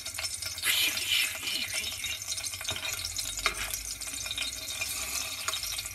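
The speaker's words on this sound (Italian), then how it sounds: "L'aglio inizia a soffriggere" Garlic and whole chili fry in oil in a pan for tomato sauce, with a close, busy sizzle, crackle and spatter that runs throughout, with no talk.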